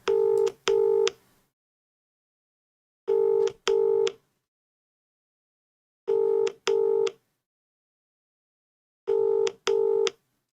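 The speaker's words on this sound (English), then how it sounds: "It's actually ringing, which is good." A phone call rings out during a late-night live draw: four double-ring bursts spaced about three seconds apart, clear and steady with silence between them and no voices.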